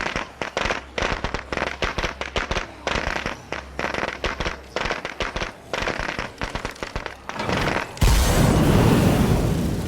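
In the video game State of Decay 2, a firecracker sets off a rapid string of sharp crackling pops for several seconds, then a broad roaring burst of noise takes over at the end.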